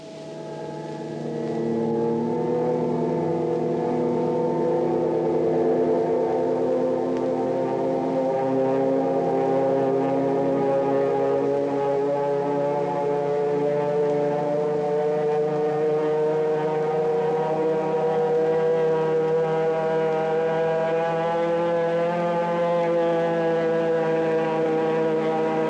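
American World War II aircraft attacking a Japanese fleet in the Coral Sea give off a continuous, loud, droning engine hum with steady layered tones, sustained throughout with no speech.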